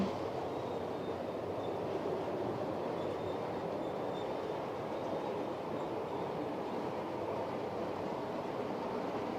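A model train runs with a steady rumbling roar and faint rail hiss, continuous, unchanging in level and without talk.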